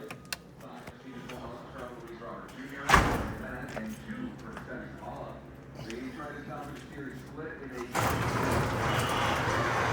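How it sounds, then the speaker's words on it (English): A roll-up door at a compound is raised partway. A sharp thump comes first, then a loud, sustained rattling rumble starts abruptly and runs to the end over faint background sounds. "I let the door go up, but I don't let it go up all the way"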